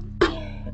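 A single short cough bursts out at close range after a brief quiet moment, followed by a faint trailing rasp.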